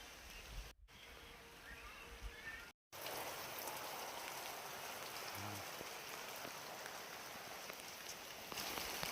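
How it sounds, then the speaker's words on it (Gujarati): Rain falls steadily with gusting wind in a monsoon downpour, a broad continuous wash of noise broken by two brief dropouts, with no voices. "સુસવાટા કરતા પવન સાથે વરસાદ ચાલુ થઈ ગયો."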